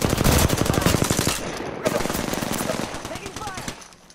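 Rapid automatic gunfire in a shooter video game: loud, continuous bursts of fast rhythmic shots that persist and gradually thin out, with voices talking over the action.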